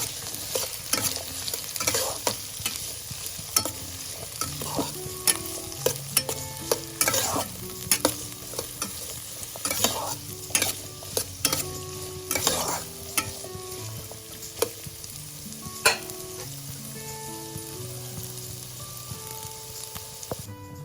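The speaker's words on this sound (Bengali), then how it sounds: "ক্যাপসিকাম এবং বিনসগুলোকে একসাথে ভেজে নিচ্ছি গাজরের সাথে" Capsicum, beans and carrot fry together in a pan for vegetable fried rice, with a soft steady sizzle broken by frequent scraping and knocking strokes of a stirring spoon against the pan.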